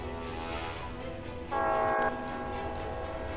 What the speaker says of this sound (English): Incoming train.